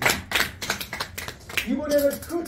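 People at a laughter-therapy session clap their hands. A quick run of sharp, close claps comes first, and a speaking voice takes over in the second half.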